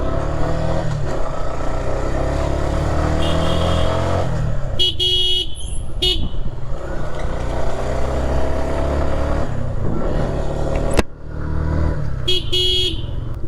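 A 2025-model motorcycle is test ridden on a busy road, its engine running continuously up close while car horns toot in short bursts from the surrounding traffic.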